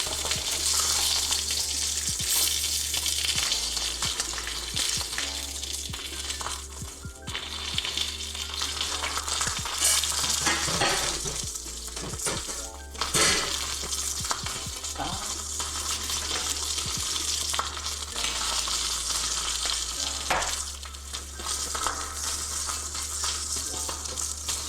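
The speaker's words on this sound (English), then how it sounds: "We'll probably splatter a bit just because oil splatters at high heat." Flank steak sizzles and spatters in hot oil on a stovetop, a loud continuous frying hiss with crackling pops lasting the whole stretch, with little or no talk.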